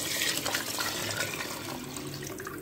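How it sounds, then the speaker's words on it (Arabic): Broth poured into a pot of simmering meat with tomato for an oven potato-and-meat tray dish, a steady close splashing pour of liquid lasting the whole moment, with no voices. "بقى هنحط شوربتنا"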